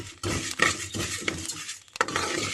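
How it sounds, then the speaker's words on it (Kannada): Rice being dry-roasted in a pan is stirred with a metal spoon, giving a series of scraping, rattling strokes with clinks against the pan, close and fairly quiet, with no talking. "ಈಗ ನಾವು ನಾಳೆಗೆ ಅರಿಯನ್ನು ಹೀಗೆ ಹುರಿಯುತ್ತಿದ್ದೇವೆ"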